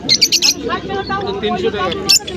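Caged birds, including native pigeons, call at a busy roadside bird market in Bethuadahari, with sharp chirp bursts at the start and again near the end over a bed of crowd chatter.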